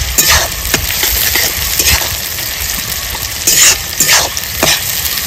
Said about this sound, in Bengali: এবার দিয়ে দেবো এই যে কেটে রাখা পেঁয়াজ কুচি, পেঁয়াজটা আমি সুন্দর করে ভেজে নেবো